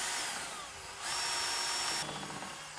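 A power drill bores a hole into a musical tube in a home DIY build, whining steadily close by for nearly three seconds, with its pitch shifting slightly as the bit bites in.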